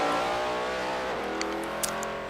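A Ford race car engine in the video game Forza 4 revs high and steady, its pitch shifting briefly, loud and close with a couple of small knocks near the end.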